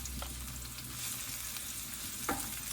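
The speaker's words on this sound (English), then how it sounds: "that's just going to heat that oil up, put the chili and the garlic in." Chili and garlic fry in hot oil in a wok with a continuous, close, crackling sizzle and a couple of brief stirring clinks, with no speech.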